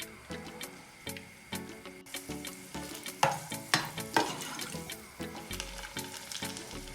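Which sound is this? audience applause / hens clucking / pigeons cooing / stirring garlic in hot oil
stirring garlic in hot oil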